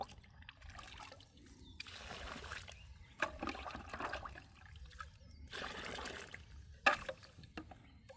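Water is poured into fishing bait feed in several quiet, intermittent splashy pours with pauses between them, heard close.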